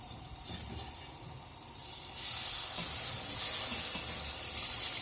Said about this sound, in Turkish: Şimdi sütümüzü ilave edeceğiz. Yavaş yavaş.